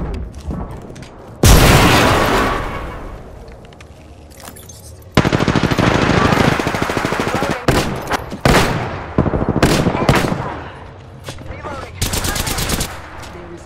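An Apex Legends firefight: a frag grenade explosion bursts in loudly, then sustained gunfire follows in rapid bursts and single cracks, with brief pauses between volleys and a few more booming hits near the end.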